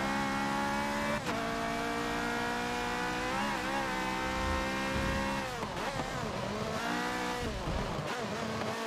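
A car engine revs steadily in the Forza racing game, with rising and falling pitch as the RPM builds and shifts, loud and continuous throughout with brief gear-change dips.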